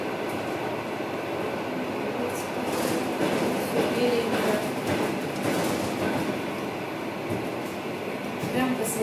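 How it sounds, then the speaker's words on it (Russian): Steady rumble and rattle inside a new suburban electric commuter train carriage while running, continuous rolling noise with no talking. "Новый поезд, новая электричка."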